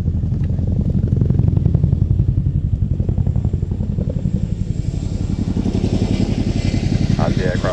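Two 5,000-horsepower Honeywell turboprop engines of a military transport aircraft at full power as it departs at an airshow: a loud, steady, throbbing drone with a pulsing beat that stays strong throughout.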